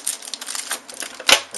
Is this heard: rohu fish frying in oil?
no